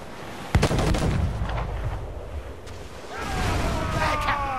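Ship cannons boom in Assassin's Creed IV Black Flag, a sharp blast followed by continued rumbling gunfire and battle noise, with a voice speaking over the action.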